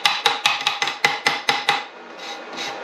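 A chipping hammer knocks slag off a fresh weld bead laid by a 110-volt Sefaspe MIG135E welder. About eight sharp metallic taps come in a quick, even rhythm, close and clear, then give way to softer scraping.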